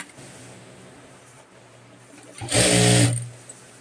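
A sewing machine stitches a Rajasthani kanchli blouse in a single short, fairly loud whirring run of under a second, set against quiet room noise.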